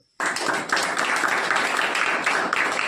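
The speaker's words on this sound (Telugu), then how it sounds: "చప్పట్లు కొట్టు" A church congregation at a Pentecost service breaks into rhythmic hand clapping after a brief silence, many hands striking together in a steady, loud, close beat that continues throughout.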